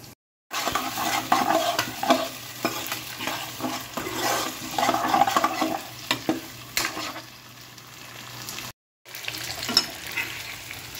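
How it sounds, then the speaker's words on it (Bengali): Vegetables fry in a kadai without salt or turmeric for Bengali dudh shukto, a steady close sizzle broken by stirring clatters, with short silent breaks at the start and near the end. "সবজিগুলো কিন্তু এখানে ভাজা চলছে।"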